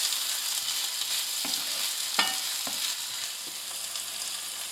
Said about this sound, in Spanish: Y la voy a rogar justo hasta que empiece a estar transparente